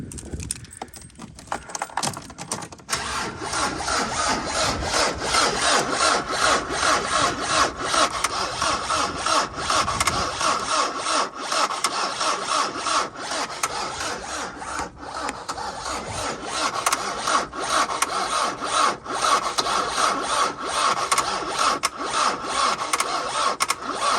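Mercedes 308D diesel motorhome engine cranking slowly on the starter without catching, a steady loud grinding churn that runs continuously from near the start to the end, with no talk over it.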